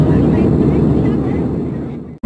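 Air India Airbus A319 cabin while cruising, a loud steady low rumble of engine and airflow noise that cuts off abruptly near the end.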